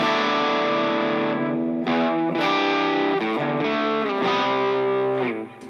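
Electric guitar driven through an SOV 2 overdrive pedal, gain at 28, tones slightly opened and volume at 40, playing a sustained, harmonically rich distorted phrase with several note changes, loud and close with no talking.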